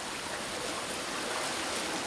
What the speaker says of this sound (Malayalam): വെള്ളത്തിന്റെ സൗണ്ട് കേൾക്കുന്നുണ്ടോ